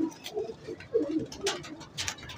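Several soft coos from homing pigeons kept for flying, close and quiet, mixed with brief rustling and wing flutters over a couple of seconds.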